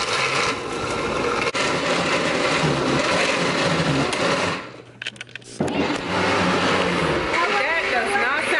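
A blender motor whirs loud and rough while mixing a milkshake of Twizzlers and applesauce, grinding steadily, dropping out briefly midway, then roaring back, with voices talking over it.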